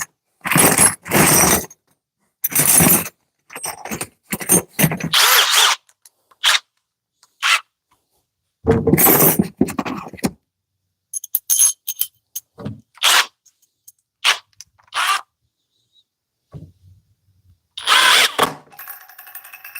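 A cordless impact driver drives a long 7 to 8 inch lag screw, hammering in loud, rattling bursts of varying length separated by silent pauses, close up and with no talk.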